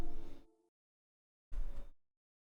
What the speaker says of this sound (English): I'm sorry for the USB noise